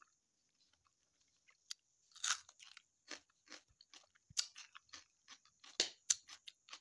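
Someone bites into and chews a crunchy homemade organic pickled onion, producing a series of sharp, close crunches in irregular bursts against near silence.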